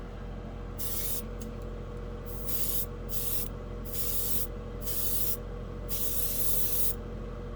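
Repeated bursts of airbrush spray applying thinned Revell enamel paint to a scale model, about seven hissing passes separated by short pauses, over a steady low mechanical hum.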